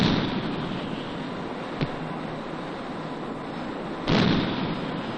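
An artillery gun fires on the gunline: a deep, booming blast over a steady low rumble, with one sharp short report followed by a louder, broader thump a couple of seconds later.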